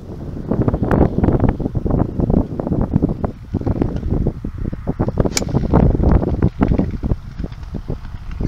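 Wind gusting across an open golf course, a steady buffeting roar of wind noise on the microphone with fluctuating loudness throughout, no voices.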